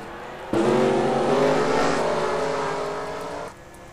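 Several race car engines fire up together in a NASCAR SEGA Cup Series video game, a loud steady roar of many engines starting at once that idles on and eases slightly before dropping off near the end.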